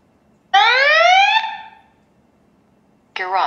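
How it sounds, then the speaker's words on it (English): A YoLink smart smoke and CO alarm in a garage sounds loud and close. Its pitch sweeps upward in a sustained electronic tone that cuts off, then starts again near the end. "Garage, smoke and CO alarm detects smoke."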